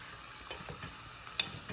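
Green beans fry in olive oil and are gently stirred, giving a soft steady sizzle with faint scraping movements and a single small click. Everything stays quiet and close, with no voices.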